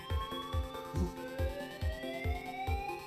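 A quiet electronic fire alarm sounds in a repeating pattern of short pulses about every half second, with rising tones gliding upward behind them, distant and faint, with no voices.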